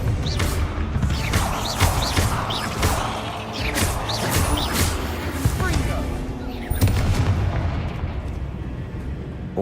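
Fiery spell blasts from Incendio and Confringo in the video game Hogwarts Legacy, a dense run of loud crackling bursts and crashing impacts layered over steady rumbling ambience, with several sharp hits through the stretch.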